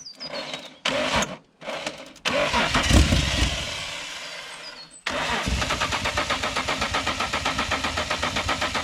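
Holden VL Commodore engine cranking repeatedly while trying to start on old fuel: several short, loud starter bursts, then a long steady rhythmic cranking churn with a chugging pulse, close by.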